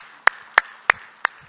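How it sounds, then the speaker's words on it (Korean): A church congregation claps in praise after a prayer: four sharp, bright claps land in a steady, evenly spaced rhythm. They ring clearly over a quiet room with no talking. "우리 하나님께 영광의 박수합시다"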